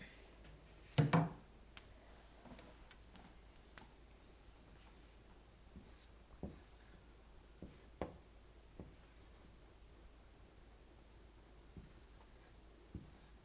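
Writing math problems on paper gives faint, scattered scratches and taps, with one louder burst early on followed by sparse strokes, alone in a quiet room.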